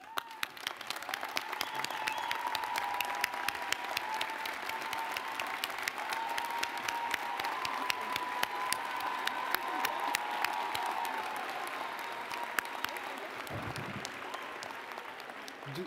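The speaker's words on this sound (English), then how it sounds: "provide you with some applause" A commencement audience gives sustained applause, a dense steady wash of many hands clapping throughout, with light murmuring underneath.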